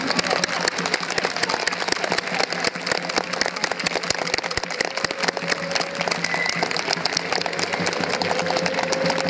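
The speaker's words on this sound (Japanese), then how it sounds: "勝利に大きな拍手をお願いいたします" Crowd applause at a Japanese football stadium after Grulla Morioka's 2–0 win over Fukushima United, a dense, steady wash of clapping throughout with no pauses.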